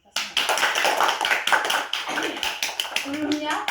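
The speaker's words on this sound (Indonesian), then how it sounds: "tepuk tangan dulu untuk kita semua." Fifth-grade schoolchildren applauding together in an Indonesian elementary classroom, a dense close burst of clapping that holds for a few seconds before thinning out, with voices mixed in.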